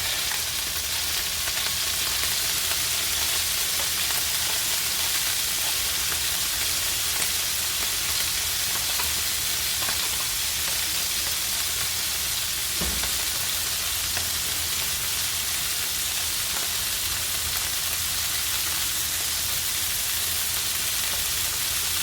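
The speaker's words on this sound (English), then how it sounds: "Just one little bit on each side, just to get a nice browning on the meat." Meat browning in a hot frying pan with salt and pepper for a stroganoff-style dish, giving a loud, steady, continuous sizzle close up, with a faint clack of the meat being turned.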